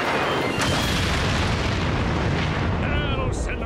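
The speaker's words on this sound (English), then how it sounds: "Shoot at the bomb. Blow it up." A cartoon bomb blows up in a loud, sustained explosive roar that fills the whole stretch, with a rumbling low end, a brief burst near the start and a faint voice buried under the noise.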